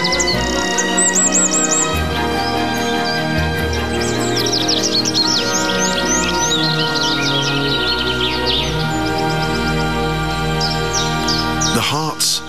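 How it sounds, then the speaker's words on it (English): A dawn chorus of birds in a national park, with many overlapping chirps, tweets and calls, some crow-like caws among them, over a steady continuous musical bed for the whole stretch. "The noisy music replaced by the birds' dawn chorus."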